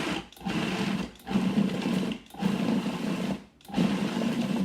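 A food processor motor whirs loudly in four short pulses chopping dates, each burst a couple of seconds long with brief pauses between.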